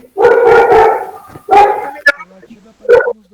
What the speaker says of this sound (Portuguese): O latido ficou muito alto.